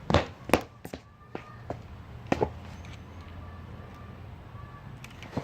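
A metal BB gun fires several sharp cracks, some in quick pairs, then a lone shot a little later, all against quiet outdoor background noise.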